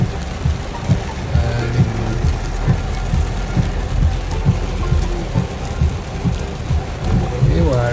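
Heavy rain pours down in the Philippines, a loud, dense, continuous roar of drops hammering surfaces close by, with a low rumble underneath and no speech.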